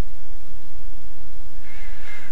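A crow caws in the video game Life is Strange, a loud harsh call arriving near the end over a noisy background.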